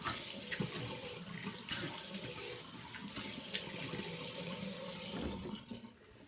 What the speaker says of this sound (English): rinse this off just with warm water